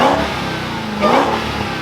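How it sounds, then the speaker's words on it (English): A Dodge Hellcat V8 with a stock intake revs up twice in quick succession, a loud, close engine swelling and falling with a deep rumble, no talking over it. "I'm gonna rev it up for y'all real quick so y'all can hear it."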